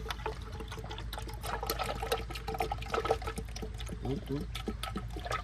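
Motor oil pours from a second quart bottle into a Honda Civic engine in a steady, gurgling liquid stream. A voice briefly exclaims over the pour.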